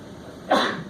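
A single short, sharp sneeze bursts out in a quiet classroom.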